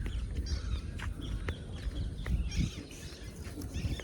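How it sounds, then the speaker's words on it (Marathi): Birds call outdoors in lush green village countryside where parrots and other birds live, with scattered short chirps rising over a low, steady rumble of background noise. "बाकी इकडे सर्व पक्ष्यांचे आवाज येतात."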